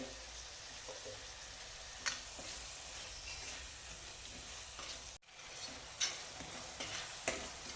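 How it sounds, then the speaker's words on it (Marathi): Tomatoes with a little salt sizzle and fry steadily in a pan for Kolhapuri katvada, a soft continuous crackle broken by a few spoon scrapes and taps against the pan. "टोमॅटो आपले आता भाजत आलेले आहेत"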